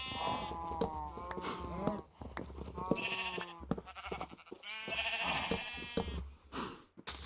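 Sheep in a modded Minecraft pen bleat over and over, with several wavering, overlapping calls close by and no gaps.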